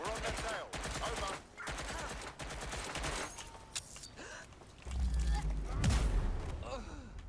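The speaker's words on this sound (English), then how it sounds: "Please stop shooting at me." Rapid gunfire bursts in the video game Watch Dogs Legion, repeated volleys over several seconds growing louder toward the end, with a voice talking over them.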